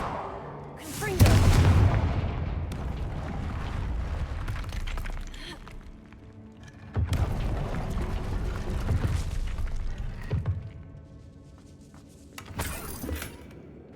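Confringo spell explosions in the video game Hogwarts Legacy, several loud booming blasts with rumbling decay, spaced apart over a game soundscape.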